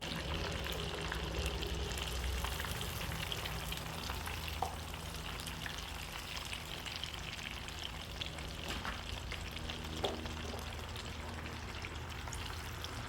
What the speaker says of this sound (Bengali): চিকেনগুলো এভাবে ছেড়ে দিতে হবে এই পাশ ও পাশ দুই মিনিট দুই মিনিট চার মিনিট করে ভেজে নিলে চিকেন আমাদের রেডি হয়ে যাবে